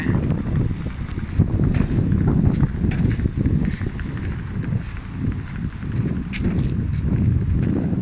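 Wind blows steadily outdoors at a municipal sports park, a continuous low rumble of gusts buffeting the microphone for the whole stretch, with some faint scuffing sounds mixed in.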